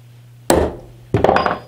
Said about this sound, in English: So we have to stamp my maker's mark.